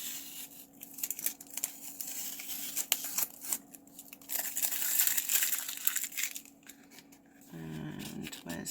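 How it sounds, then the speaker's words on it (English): Tape is peeled off paper with crinkling, tearing rustles that rise and fall close by, and brief handling noise near the end. "Let's just take this tape off."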